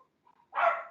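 A dog lets out a single short bark in the distance during a council meeting, arriving after a brief faint whine with near silence around it.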